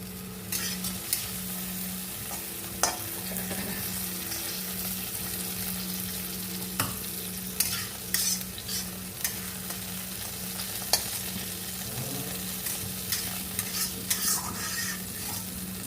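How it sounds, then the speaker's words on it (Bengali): Bitter gourd fries in a wok with a low, steady sizzle, broken by repeated scraping stirs and knocks of a spatula against the pan, close and moderately loud, with no speech. "উচ্ছেগুলো কিন্তু ভাজা হয়ে গেছে অলরেডি"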